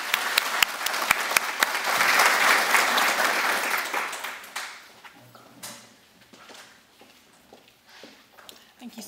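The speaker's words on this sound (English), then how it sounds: "Please give another round of applause to the Southeast Award winners" Audience applause for the Southeast Award winners at a Making It Work Day 2024 event, loud sustained clapping for about four seconds then tapering into scattered claps and faint murmuring.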